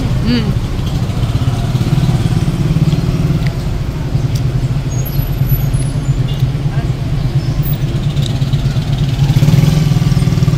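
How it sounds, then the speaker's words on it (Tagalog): Steady traffic of cars, buses and motorcycles on a road in Ilocos, with a continuous engine rumble and passing vehicles throughout, loud and close, under intermittent voices. "Dami pong sasakyan dito."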